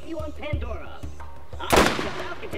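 Gunfire in the third-person shooter Borderlands: a few sharp shots among game sounds, ending in one loud, bright blast, with someone talking throughout.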